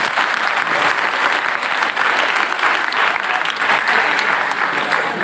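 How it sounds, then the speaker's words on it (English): A school audience of students at a Kendriya Vidyalaya gives a big, sustained round of applause during an energy talk. The clapping is loud and dense, with a faint crowd murmur, and continues evenly for over five seconds. "give them a big round of applause"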